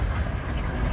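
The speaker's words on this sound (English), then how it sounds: "Followed by another steamroller." A steamroller engine runs at a steam and country show, a dense, steady low rumble with a continuous mechanical chug filling the whole second, close and fairly loud with no talking.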